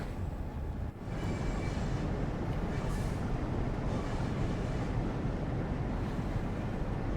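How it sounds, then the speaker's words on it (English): Steam-era intercity locomotive hauling a train out of Leeds, a steady loud broadband rumble of running gear and rail noise that fills the whole stretch close by, with a brief dip near the start and wind buffeting the microphone. "Intercity train out of Leeds."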